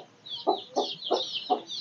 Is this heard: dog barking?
no